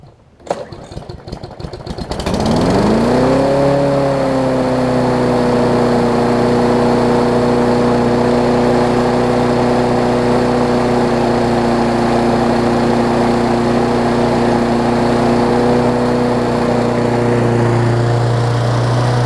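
A Yard Man OHV big wheel push mower is pulled to start, catches and revs up quickly, then runs loud and steady at a constant engine drone close by for the rest of the stretch, with no talk over it.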